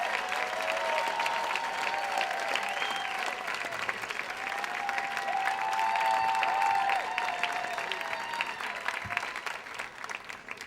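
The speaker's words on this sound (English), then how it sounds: "Turn that into a bigger round of applause for Aletha as she comes up." An audience claps steadily in a large hall for about ten seconds, a dense, even wash of applause at constant loudness with a faint murmur of the crowd beneath.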